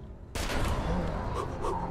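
Gunfire in a fantasy shooter video game breaks out abruptly after a quiet moment, a dense, loud burst of shots that keeps rattling on.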